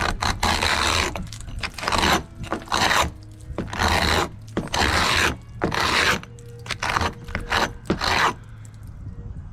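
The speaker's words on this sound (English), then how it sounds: "I've pretty much been able to scrape off all the paint on that particular part of the window because it's just so loose" Loose old paint is scraped off a house window frame in a series of rough, rasping strokes, about a dozen bursts with short pauses between, close and fairly loud, with no talking.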